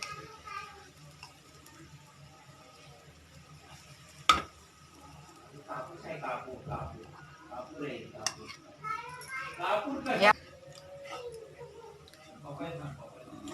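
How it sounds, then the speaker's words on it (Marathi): Grated coconut roasts in a hot pan on a low flame as filling for Diwali karanji, with intermittent scraping, stirring and a soft sizzle. Voices, including a child's, talk throughout. "आपण बारीक गॅस करून आपण खोबरं भाजून घेणार आहोत।"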